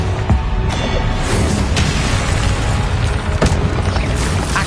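A Confringo blasting spell explodes in Hogwarts Legacy, heard as loud, dense booming blasts with sharp cracks and crashing debris that continue without a break.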